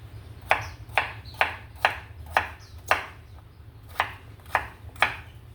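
Knife chopping carrot and sayote into cubes on a board: a steady series of about ten sharp, close taps at an even rhythm over a low background hum.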